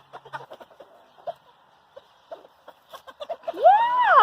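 Farm chickens cluck and peck in short soft bursts while being fed, followed by a louder sliding squawk near the end; a faint voice is present.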